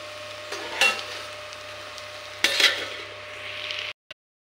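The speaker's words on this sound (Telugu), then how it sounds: "ఇలా కలిపి మూత పెట్టుకుందాం." A potato masala curry frying in a pan is stirred in two short scraping bursts over a soft steady sizzle, followed by a brief clink near the end.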